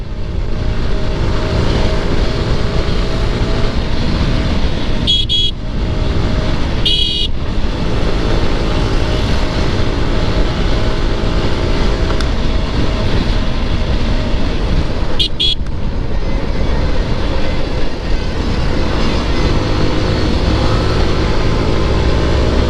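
Yamaha R15 motorcycle being ridden in traffic, its steady engine and road rush loud and continuous throughout, with a few brief horn toots cutting in.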